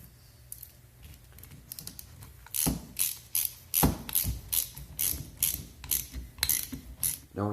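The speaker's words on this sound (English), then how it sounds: "now we can go ahead and install our bleeder screw" Ratchet wrench clicking steadily while a bleeder screw is threaded into a rebuilt single-piston brake caliper, with a rapid series of close, sharp mechanical clicks growing denser toward the end.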